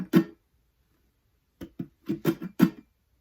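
Acoustic guitar in a looping-style strum pattern, muted strums with percussive slaps on the neck and near the sound hole, heard close and dry as a short burst followed by a pause, then a quick run of five or six rhythmic hits.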